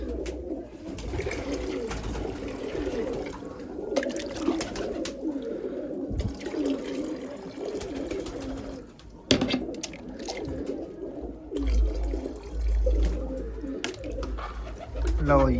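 Black pigeons coo softly and repeatedly nearby, with scattered rustling and people's voices mixing in at times.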